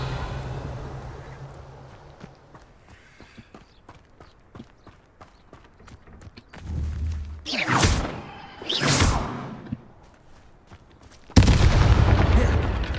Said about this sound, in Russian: Салют, салют